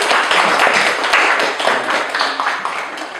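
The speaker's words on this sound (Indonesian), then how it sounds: "tepuk tangan untuk kelompok." Students in an Indonesian classroom clap for a presenting group, a dense patter of hand claps that stays fairly loud and steady for a few seconds with no talking.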